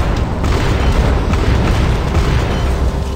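A shot striking a tank in a robot combat video game, heard as a loud, sustained explosive roar of dense rumbling noise that fills the whole moment without a break.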